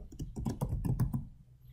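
Quick, light keystrokes on a computer keyboard as an induction key is typed in capital letters, a close rapid run of about a dozen clicks that stops abruptly.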